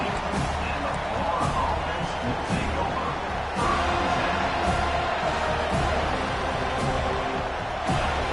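Football stadium crowd at a college game in a packed home venue, a steady loud roar of cheering and noise sustained throughout with scattered shouts rising above it.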